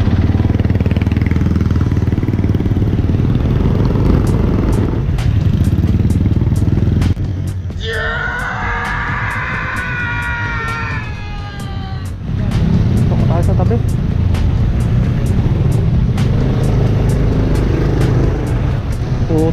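Philippine street traffic heard from a riding motorcycle: a constant rumble of engines with passing cars and motorbikes, a rider talking over the noise, and the engine note dropping briefly before it picks up again.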